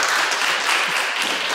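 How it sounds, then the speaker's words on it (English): Audience applause after a talk at a blockchain event, steady dense clapping from a crowd with no gaps, filling the room evenly from start to finish. "That's where you applaud."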